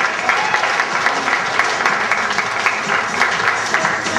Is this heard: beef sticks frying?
no